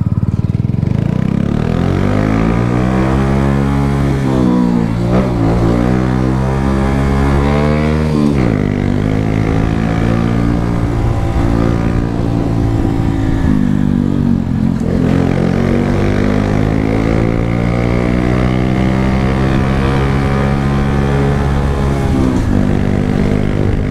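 A Honda Pop 110 motorcycle engine revving loud and close, its pitch sweeping up and down in repeated surges over a continuous droning roar, with no talking.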